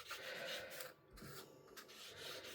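An inked stamp is rubbed straight down onto paper for a faux pyrography card effect, giving quiet, close scratchy rubbing strokes with a brief pause midway.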